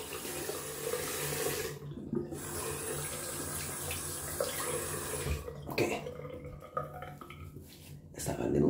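Tap water running into a bathroom sink to rinse after a wet shave, a steady close splashing hiss that shifts and swells, briefly interrupted, with no talk over it.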